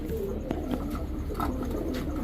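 Three pairs of pigeons coo in a low, repeated murmur close by, with a few faint chirps over a steady background hum.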